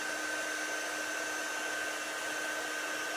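A blow dryer blasts continuously at close range while drying a craft transfer, a steady airy roar with a constant whine, no talking.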